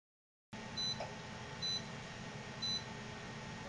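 A PlayStation 3 console beeps during a jailbreak process: three evenly spaced short electronic beeps over a steady low hum, fairly close and alone.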